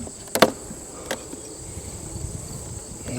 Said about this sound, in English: I can hear bees